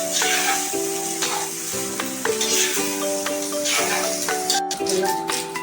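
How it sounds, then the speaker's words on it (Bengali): Bay leaves and cloves fry with salt in a pan, giving a moderate crackling sizzle with occasional stirring. Tonal music plays over it throughout. "তো দেখো ভালো করে এটা এবার ভাজা ভাজা হবে।"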